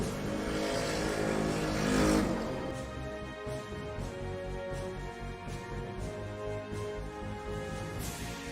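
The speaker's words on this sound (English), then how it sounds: "Gotta love those noisy motorcycles that go past, don't you? Revving their engines around in this heat." Noisy motorcycles revving their engines as they pass by in the heat, a steady droning motor roar that swells and peaks early, then settles into a continuous rasping hum with no talking.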